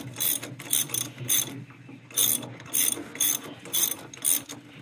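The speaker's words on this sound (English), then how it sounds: "drive that in, or use a ratchet" Ratchet tightening bolts while installing a dual rear remote kit on a TYM 2515 tractor, heard as several short, crisp clicking bursts in an uneven rhythm, close and clear, with no talk.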